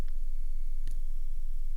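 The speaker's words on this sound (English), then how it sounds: "you can hear that there's a little bit of noise in the background there" A PWM Malevolent synthesizer in drone setting gives off a low steady background hum and hiss, with a faint tick or click partway through, quiet and continuous.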